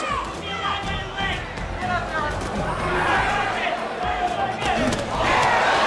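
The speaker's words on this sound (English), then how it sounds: "The crowd, again, showing its both appreciation and" A boxing arena crowd roars and cheers at the Jake Paul vs Mike Tyson fight. The broad crowd noise swells toward the end beneath continuous commentary.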